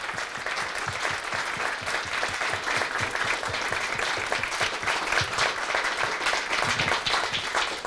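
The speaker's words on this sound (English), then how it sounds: "if you could all just join me in a round of applause for Ben." A city appreciation event audience in Northfield, Minnesota gives a sustained round of applause, dense steady clapping from many hands filling the room at a loud level throughout, with no talking over it.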